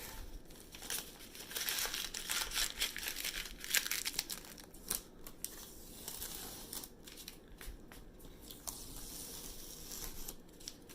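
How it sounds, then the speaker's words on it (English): Tape is peeled off a bubble painting on paper, giving close, quiet crinkling and tearing rustles in uneven bursts, busier at the start and sparser later. "I'm going to take the tape off and show you what it looks like"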